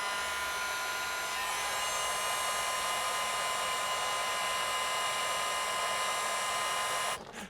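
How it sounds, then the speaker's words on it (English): A hot air gun fitted with a small nozzle hisses and whirs steadily while heating heat-shrink on motorcycle wiring during electrical repair on an XJ6. It runs close and continuous as a constant airy roar, and cuts off abruptly near the end. "Honestly, hot air guns."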